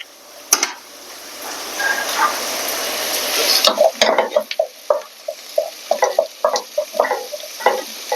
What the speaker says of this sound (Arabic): وهنا نقلب البصل شوية